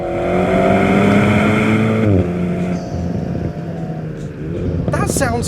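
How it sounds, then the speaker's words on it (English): Turbocharged four-cylinder Alpine A110 with its sport exhaust in sport mode, a loud steady engine drone holding and rising through revs, with a brief shift partway and a short burst of higher-pitched noise near the end. "I'm going to dip into sport mode here. I don't have adaptive dampers. but that does wake up the sport exhaust."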